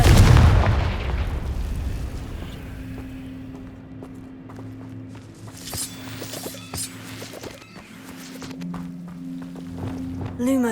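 A Confringo spell explosion in Hogwarts Legacy, a loud deep boom at the start that fades into quieter ambient game sounds and faint tones.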